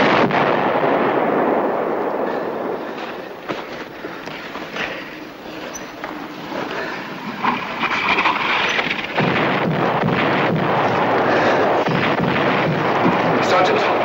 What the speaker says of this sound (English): The American artillery. Starting its barrage